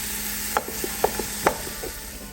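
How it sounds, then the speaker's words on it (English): Ground turkey browns in a pan under a steady soft sizzle while a wooden spoon breaks it up, giving several distinct close scraping knocks spaced roughly half a second apart. "we're gonna dump in the turkey and brown it just like you would regular ground beef"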